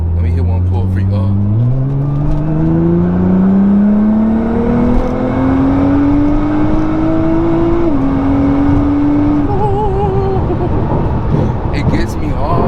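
A 2014 Nissan GTR engine revs hard under heavy acceleration, its pitch climbing steadily through one long pull with a brief shift dip before rising again, loud and close, with a voice talking over it.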